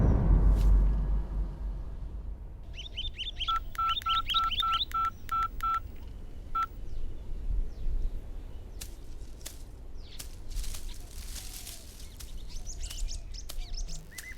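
A telephone number is dialed, heard as a quick run of about ten evenly spaced keypad tones, then a single extra tone, over a steady background hum with some chirps, and no talk.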